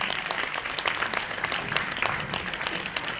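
An audience at a film premiere claps steadily, with sharp individual claps rising above a continuous patter from a sizable crowd in a hall.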